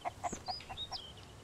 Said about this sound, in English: having the chicken in my hand.